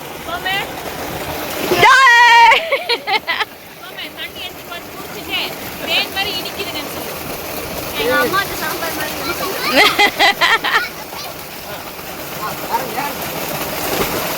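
A person jumps into the water of an irrigation pump-set tank in a village, making a loud burst of splashing and churning water about two seconds in, followed by lighter splashes under excited voices and laughter.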